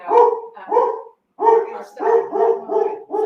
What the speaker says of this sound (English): The dogs are about to bark, y'all.